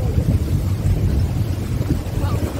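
A car driving through a flooded road during a trip in Goa, with a loud, low rumbling wash of water churning around the wheels and wind buffeting the microphone, continuous and close.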